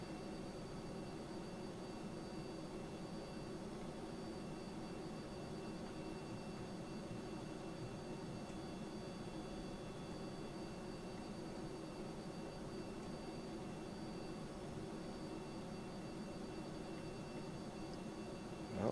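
Steady, continuous roar of a video-game plane's engine flying near supersonic speed at sea level, a broad constant drone with a faint high whine, holding unbroken and fairly loud with no talk over it.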